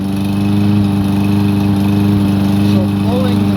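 A lawn mower engine runs steadily and close by while someone cuts grass around the edges, giving a constant droning hum with stable harmonics throughout.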